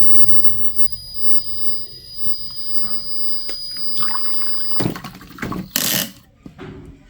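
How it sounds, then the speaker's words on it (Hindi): A small Arduino smart toilet working model flushes with a gurgling rush of water that builds over a few seconds, heard close against a steady electrical hum, with clattering bursts near the end. "तो उसको हम फ्लशिंग करेंगे।"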